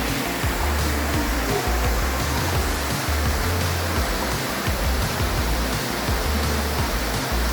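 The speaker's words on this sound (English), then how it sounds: "And this is the Acono Waterfall. That's in the Acono Gorge." The Acono Waterfall in the Acono Gorge pours in a constant, loud rush of white water that fills the whole stretch, steady and unbroken with no voices.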